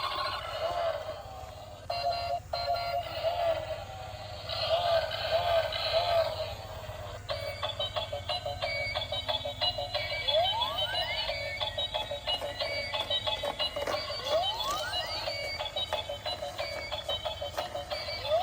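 A toy champion car, switched on, plays a steady electronic tune with repeating bright beeping notes and chirps, close and fairly loud throughout, with no talking over it.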